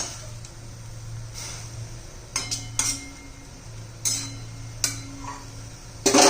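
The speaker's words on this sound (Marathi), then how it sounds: "बरं आपण भाजी हलवून घेऊया" A spoon stirring a spinach and pea vegetable curry in a metal pan, with a few sharp clinks and scrapes against the pan over a low background hum.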